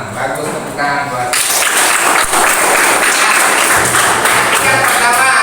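A classroom of students breaks into applause for a classmate after a voice speaks briefly, a loud burst of clapping that starts suddenly and continues steadily, with voices mixed in.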